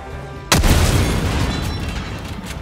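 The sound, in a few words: Eruptor explosive gun blasts in video game Helldivers 2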